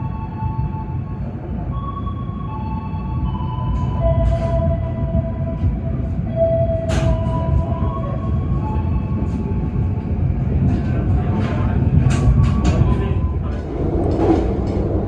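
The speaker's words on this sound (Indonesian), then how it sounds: "Kereta api Kertajaya berangkat dari stasiun Tegal pukul" Kertajaya passenger train pulling out of Tegal station: a steady low rumble of rolling stock with faint tonal squeals and brief clanks, heard continuously from nearby without talk.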